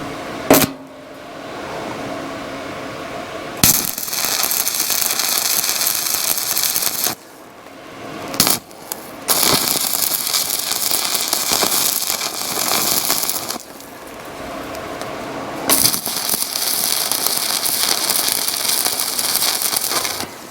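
A cheap mini-welder runs on a barrel, giving loud sustained crackling and sizzling in long bursts broken by short pauses, with no talking.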